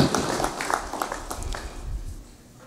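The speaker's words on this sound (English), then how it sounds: "I will just ask that we collectively recognize them by giving them a big round of applause" A congressional session audience gives a round of applause for honored guests, a dense, fairly loud spatter of clapping heard from within the hall that gradually thins and fades over a couple of seconds.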